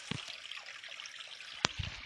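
Water trickles and drips faintly at a muddy water point along a trail, with soft liquid splashes and a couple of sharper drops against quiet surroundings.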